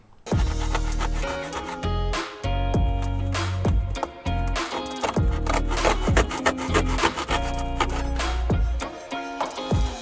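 Someone works at a truck headliner to make room for map lights, producing loud, close rasping and scraping strokes in rapid rhythmic bursts with brief pauses, like sawing or filing, with no talk.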